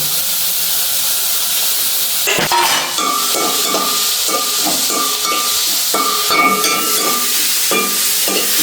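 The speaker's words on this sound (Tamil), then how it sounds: "சீரகம் வெந்தயம் எல்லாம் போட்டு பாருங்க வதங்கி கொண்டு இருக்குது பாருங்க" Cumin and fenugreek seeds frying in hot oil for a Jaffna-style chicken curry, a steady close hiss and sizzle with light stirring scrapes and clinks of a spoon against the pan throughout.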